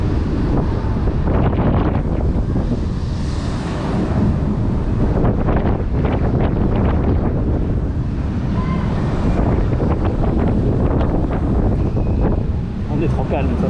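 Steady wind buffets the microphone outdoors at Parc Saint Paul amusement park, a continuous loud rumble that runs the whole time beneath casual conversation.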